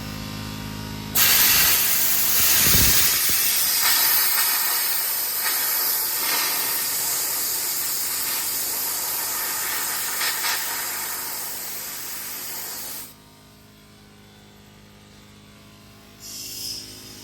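A loud, steady hissing blast of pressurized air and grit from a pressure sandblaster removing rust and paint runs for about twelve seconds, then cuts off, leaving faint background noise before a brief final burst.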